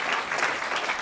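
A short, steady burst of audience applause fills the room, even and moderately loud from start to finish.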